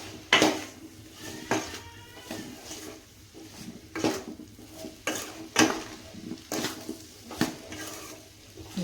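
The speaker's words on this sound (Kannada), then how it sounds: "ಇದನ್ನು ಚೆನ್ನಾಗಿ ಫ್ರೈ ಮಾಡ್ಕೊಳ್ರಿ." Pieces of corn-flour kadubu being fried and turned in a pan, with irregular clanks and scrapes of a utensil against the metal over a soft, low sizzle, heard up close with no voices.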